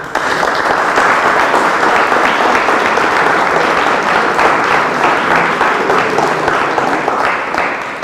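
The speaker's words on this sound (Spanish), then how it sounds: "por favor, pues, gracias, un aplauso." A lecture audience gives sustained, loud applause to welcome a physicist before her talk, a dense, steady wash of clapping that continues for several seconds and tapers slightly at the end.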